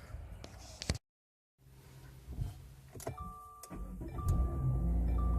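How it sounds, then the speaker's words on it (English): A Subaru car starts up after a few clicks and a brief silence, the engine catching and settling into a steady idle with a chime-like tone, quiet and close. "Car starts up."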